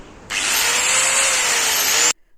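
Repaired electric cutting machine switched on: a loud, steady high-pitched motor whine holds for about two seconds, then cuts off abruptly.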